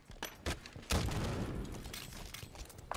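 A grenade blast in Halo 5 multiplayer capture the flag bursts into a rolling, crackling explosion, followed by scattered gunfire-like pops, fairly distant and moderate in level.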